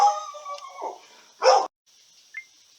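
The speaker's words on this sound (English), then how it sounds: "the dog barked" A dog gives a couple of short, sharp barks indoors, fairly close, with quiet gaps between them and no talking.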